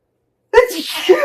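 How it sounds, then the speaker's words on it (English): A single sharp sneeze bursts out after silence, close and loud, followed by a brief breathy trailing sound. "I'm about to sneeze."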